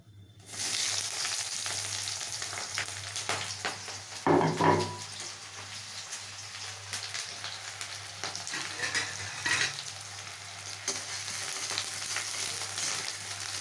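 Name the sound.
green chilies and onion frying in mustard oil in a kadai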